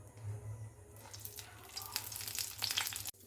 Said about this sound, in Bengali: এবার তেল দিয়ে নিয়েছি হালকা করে আমি ফ্রাই করে নেব